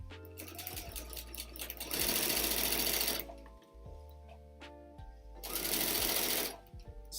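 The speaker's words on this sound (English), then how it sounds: "I'm going to start sewing that" A sewing machine stitches an inside-out fabric bag in two steady whirring bursts of about a second each, close and fairly loud, separated by quieter pauses with a low background hum.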